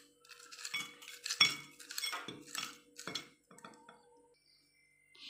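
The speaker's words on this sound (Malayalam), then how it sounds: "അപ്പൊ ഇതിലോട്ട് നമ്മൾ കുത്തിപ്പൊട്ടിച്ച ഐസ് നമുക്ക് ഗ്ലാസ്സിലോട്ട് ഇടാം." Crushed ice for a sweet shaved-ice treat clatters into a glass in several bright, clinking bursts spread over a few seconds, close and fairly quiet, with pauses between the drops.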